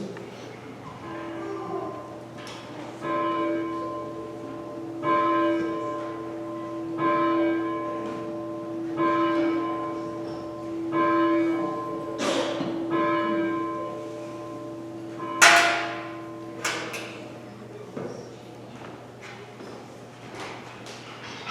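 A church bell tolls in slow, evenly spaced strikes, loud and ringing out before a Sunday worship service, each stroke decaying into the next, with a few sharp clunks near the end.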